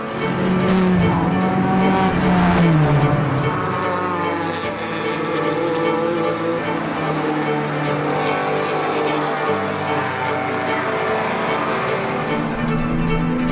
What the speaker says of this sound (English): Nothing really prepares you for what happens at a race start when cars are wheel to wheel.